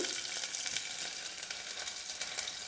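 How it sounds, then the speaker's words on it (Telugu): Ginger garlic paste and green chilies dropped into hot oil, a bright, crackling sizzle that stays steady and close throughout. "ఫస్ట్ అయితే ఆయిల్లో అల్లం వెల్లుల్లి పేస్ట్ అలాగే పచ్చిమిరపకాయలు వేసుకోవాలి"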